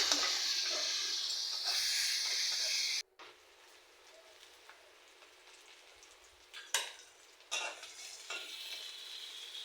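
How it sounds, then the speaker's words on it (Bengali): Onions with green chilies frying in a pan, a bright, steady hissing sizzle at first that cuts to a quieter frying crackle with sporadic spoon scrapes and stirs. "আর পেঁয়াজটা একটু ভেজে নিব ভালোভাবে।"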